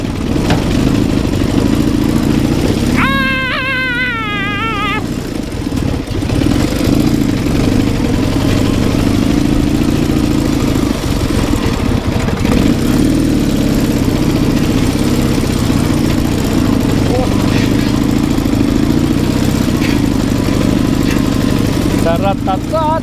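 An MT motorcycle engine drones continuously while riding across a ploughed field, close and loud, with people talking and laughing over the rumble.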